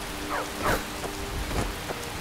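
Rain falls steadily in Skyrim as a soft continuous hiss, with a few brief louder swishes and distant rumbles passing over it and no voices.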